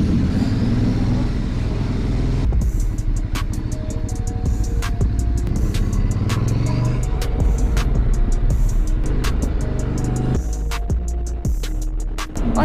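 Someone rides a motorcycle on the road with the engine droning steadily up close. Sharp ticks and clicks recur throughout, and the wind and engine noise stay loud and unbroken with no talking.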